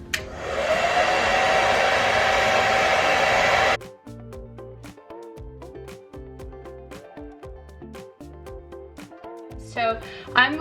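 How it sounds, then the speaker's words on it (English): Hair dryer fitted with a diffuser blows a steady, loud whoosh for several seconds while drying type 2 wavy hair, then cuts off, leaving clicks and handling noises with a brief voice at the end. "crunch it into the diffuser, bring it in close to the root and then turn it on"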